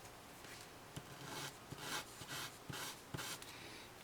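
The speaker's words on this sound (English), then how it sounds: "So I'm going to use a number 400 sandpaper. Sand each and every one of them" Fine 400-grit sandpaper rubs over a plastic part from a 1/100 MG GunTank model kit in steady back-and-forth strokes, a soft close rasp broken by light taps.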